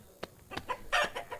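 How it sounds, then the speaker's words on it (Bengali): A chicken in the video game Meena 2 gives a quick run of sharp, close clucks, several short bursts in under two seconds, with no talk over them. "ওই যে আমাদের মুরগিটাকে আমাদের ধরতে হবে।"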